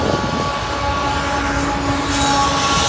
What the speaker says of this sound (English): Obviously, we got a train